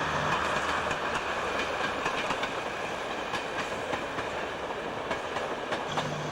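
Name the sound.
early diesel multiple unit train running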